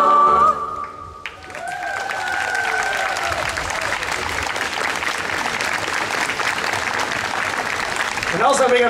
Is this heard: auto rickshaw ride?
no